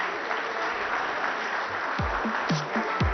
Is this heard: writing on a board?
no